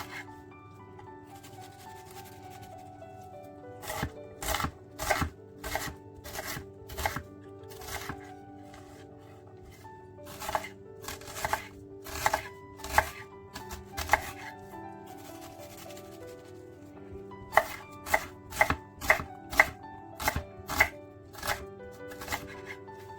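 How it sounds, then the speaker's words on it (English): A knife chops a large onion into big chunks on a cutting board while pumpkin soup is being prepared, with bursts of sharp, evenly spaced strokes that stop and start again, close and clear over a low steady hum, with no one talking. "Chop one big onion into large chunks."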